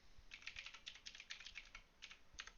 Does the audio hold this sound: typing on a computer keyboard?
yes